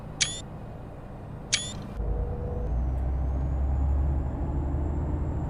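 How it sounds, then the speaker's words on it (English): Air brake on an ADL Enviro E400 double-decker bus in the OMSI 2 simulator, two short sharp hisses followed by a low rumbling idle as the system recharges, heard alone with no talk. "Do you like the sound of the bus when it charges, by the way?"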